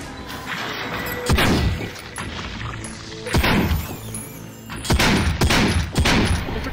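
Fireworks going off outside, a run of sharp booming bursts and crackling reports at irregular intervals over a steady noisy background, loud and close.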